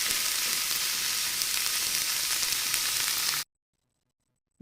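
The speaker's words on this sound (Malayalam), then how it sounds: "കുറച്ച് ഇഞ്ചി വെളുത്തുള്ളി പേസ്റ്റും കൂടെ നമ്മളൊന്ന് ചൂടാക്കി എല്ലാം ചേർത്ത് നല്ലപോലെ ഒന്ന് വഴറ്റിയെടുക്കാം" Green chilli with ginger and garlic paste sautés in a hot pan, giving a steady close sizzle and crackle that cuts off abruptly after a few seconds, followed by silence.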